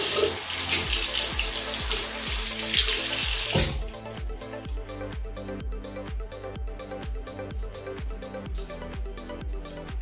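Water runs from a tap during rinsing, first as a loud, full gush, then as a lighter splashing flow with a steady, uneven patter.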